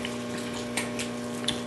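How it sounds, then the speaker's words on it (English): Water poured off cooked shrimp in a kitchen, a steady running, draining rush with a constant low hum beneath and a few brief splashes, close and moderately loud. "I'm going to take a lot of that water off of there."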